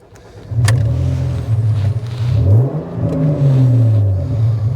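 An MG ZT 190 engine starts up and revs, its low harmonic drone rising and falling in pitch several times, loud and close, with no talking.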